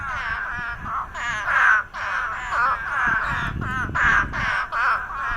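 Hurter's spadefoot toads calling after heavy rain in Port Aransas, a close, loud chorus of repeated nasal, bleating calls overlapping in quick bursts.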